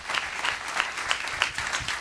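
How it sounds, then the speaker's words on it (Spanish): Strong applause from a church congregation at a Spanish-English sermon, a dense continuous patter of many hands clapping with a few sharper claps standing out, fairly distant and even in level. "Give that strong applause."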